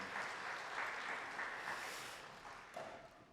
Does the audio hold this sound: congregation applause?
yes